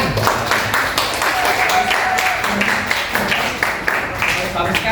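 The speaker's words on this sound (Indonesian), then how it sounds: "Coba ya, tepuk tangan." A classroom of students applauds after a group presentation in an economics class, with steady clapping throughout and voices mixed in.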